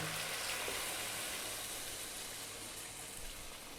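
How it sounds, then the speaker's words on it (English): A steady, fairly quiet stream of water pours into a soup pot of carrot ginger soup, a smooth hiss that gradually eases off. "we're next going to add some liquid, and I'm just going to use water"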